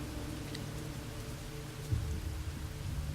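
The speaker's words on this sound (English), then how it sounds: "The storm raged outside." Storm rain falls outside in the game Jenny LeClue, a faint, steady wash of rainfall with a low rumble and one soft thud partway through, and no talk.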